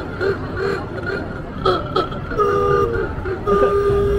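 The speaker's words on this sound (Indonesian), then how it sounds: "klakson begitu amat ya" Vehicle horns toot at a Cherry Blossom Festival parade, several short and longer honks in an irregular pattern, mixed with crowd noise and a bit of chuckling nearby.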